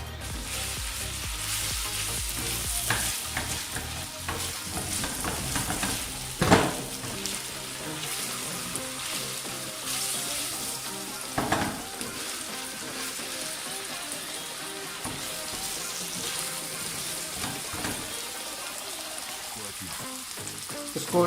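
Chicken malai boti with garlic and ginger paste cooking on a tawa over low heat, a steady close sizzle and crackle running throughout with a few louder spatters and stirring knocks.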